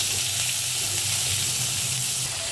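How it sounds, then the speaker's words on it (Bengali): Chopped onion frying in a pan makes a loud, continuous, close sizzle that holds steady throughout, with no talking. "এবার দিয়ে দিলাম পেঁয়াজ কুচনো"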